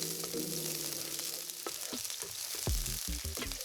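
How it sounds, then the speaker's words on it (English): Onions sautéing in oil on a hot pan for a chili crab dish, a steady close sizzle with a low tonal hum early on, then several sharp clanks and scrapes of a utensil against the pan. "add some oil on a hot pan to saute the onions"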